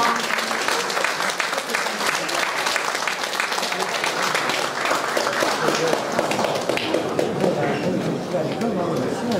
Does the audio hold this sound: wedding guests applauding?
yes